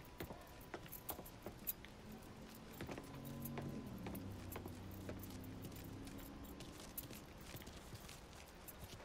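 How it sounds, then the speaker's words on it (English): Truck keys jangling in the video game Mafia 3, a light metallic rattle over a steady background hum and engine-like drone. "I grabbed the keys to the truck"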